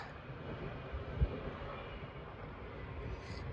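An Intercity passenger train running from Olsztyn Główny to Kraków passes through a station, giving a steady, fairly faint rumble of wheels on rails throughout, with one brief knock partway through.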